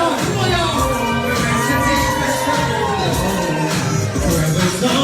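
A concert crowd cheers, shouts and whoops, a continuous loud roar of many voices with music-like tonal layers underneath, holding steady throughout.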